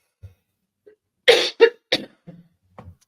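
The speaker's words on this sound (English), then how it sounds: "I would cough right then." A few sharp coughs in quick succession, close to the listener, followed by softer throat sounds in an otherwise quiet room.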